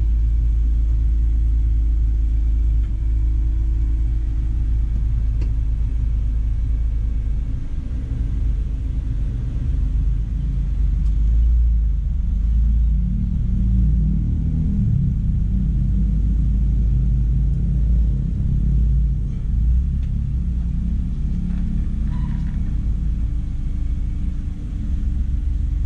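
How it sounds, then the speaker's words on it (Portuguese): A car driven by a driving-school student pulling out of a parallel parking spot, engine giving a steady low rumble that swells slightly midway, continuous and close throughout. "Luciana, pode tirar o carro"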